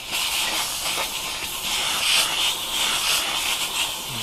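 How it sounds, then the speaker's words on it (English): An upholstery steamer hisses steadily on the vinyl of a bass boat seat being rebuilt, a continuous close, bright rush of steam with slight swells in strength and no talking. "I'm going to get the steamer cooked up here"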